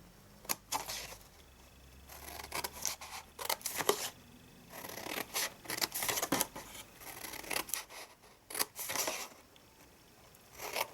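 Scissors snip through cardstock for a handmade gift box, trimming a thin strip away in a quiet room; a series of sharp, crisp cuts come in bursts with short pauses between them, close to the microphone.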